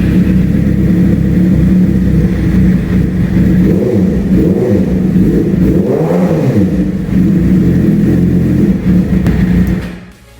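A Suzuki GSX-R motorcycle engine running after a fuel pump replacement, loud and close, a steady idle rising through a few revs before cutting off at the end.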